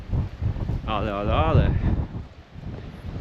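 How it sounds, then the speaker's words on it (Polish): Gusty mountain wind on a shaded stone path in Madeira buffets the microphone with a low, rough rumble throughout, while a person speaks briefly in the middle. "ojejku, jaki wiatr."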